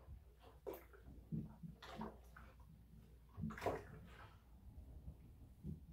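Salt and dish soap are stirred in a container of water, giving soft intermittent sloshes and swirls, quiet and close, with a few faint knocks between strokes.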